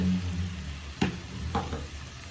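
Ground spices including turmeric, coriander, pepper and fennel powder sauté in a hot pan, giving a soft steady sizzle broken by a couple of sharp stirring scrapes, close and fairly quiet with no voices.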